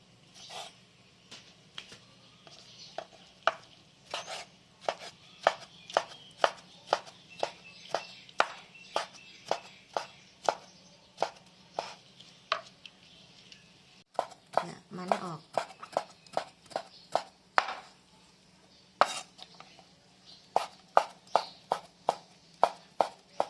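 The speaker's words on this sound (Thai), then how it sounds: "ต้มเครื่องในซอยใส่" A knife chops boiled pork offal on a board for laab in steady, sharp strikes close by, repeating for over twenty seconds at a brisk even pace with only brief pauses. Faint background sounds run underneath.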